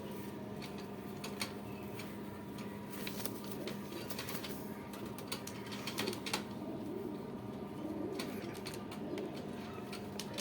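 Rampuri pigeons coo softly in repeated low murmurs, with faint clicks and rustles around them, fairly quiet and without talk.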